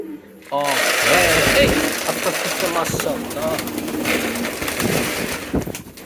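Pigeons coo at feeding time, with soft rhythmic calls near the start, followed by rustling, fluttering and handling noises, all close, with a voice present.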